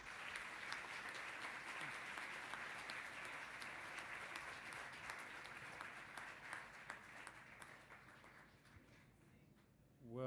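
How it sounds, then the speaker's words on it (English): Sustained audience applause at a conference on financing for nature, a dense steady wash of many clapping hands that fades gradually near the end, with little talk over it. "And you had by far the largest applause today."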